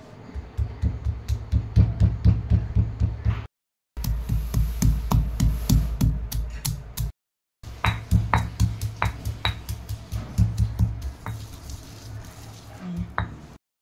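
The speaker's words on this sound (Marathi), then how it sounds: "आपण आता खोबरं आणि लसूण बारीक कुटून घेणार आहोत" Dried coconut and garlic are pounded finely in a mortar, producing steady rhythmic thuds with metallic clinks, close and loud, running in three long bursts separated by brief pauses.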